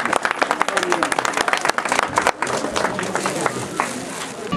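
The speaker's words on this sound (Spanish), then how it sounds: "recibámoslo con un fuerte voto de aplauso" Audience applause at a Santa Rosa festival, dense clapping and crowd noise that stays loud and steady throughout, with a brief dip partway before the clapping swells again.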